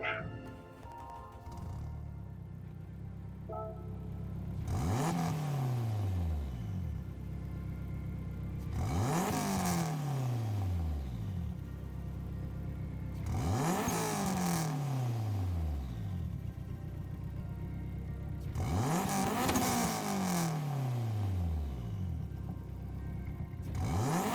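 Four loud revving bursts from an Abarth 500 fitted with a swapped-in Garage RCR Civic engine in Gran Turismo 7, each rising sharply to a high wail and dropping back to idle, evenly spaced and close with no talk.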